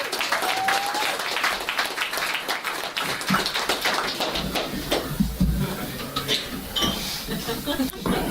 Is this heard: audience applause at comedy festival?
yes